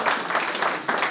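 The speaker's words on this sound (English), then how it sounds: "So please give them a round of applause" An audience at a convention in Houston breaks into a round of applause, dense close clapping in waves with no talk on top.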